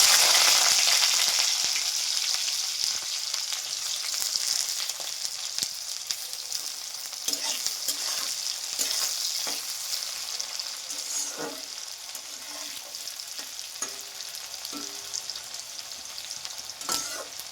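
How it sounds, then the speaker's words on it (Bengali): Chopped onion frying in hot oil seasoned with panch phoron, for kacha tomato chorchori, gives a steady close sizzle with scattered crackles and stirring scrapes throughout, no voices. "এবার ছেড়ে দিলাম কাটা পেঁয়াজটা।"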